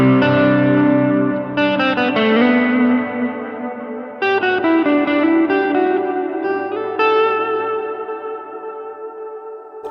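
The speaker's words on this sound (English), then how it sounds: "This is my delay and my reverb." An electric guitar runs through a Line 6 POD Go multi-effects unit set with delay and reverb, its notes and chords ringing out into long echoing repeats and a lush, wide wash of ambient tone, played alone with no talking.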